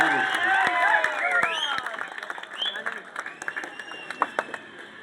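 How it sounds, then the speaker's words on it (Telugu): Crowd applause at a community gathering as an ST Commission member is invited to speak, clapping that thins and fades into scattered claps, with high whistles and a public address hum underneath. "గట్టి చప్పట్లతో"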